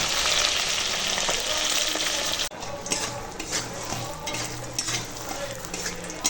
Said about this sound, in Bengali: পটকাটা শুধু এরকম ভেজে নেবো তেল ভাজা দিয়েই খাবো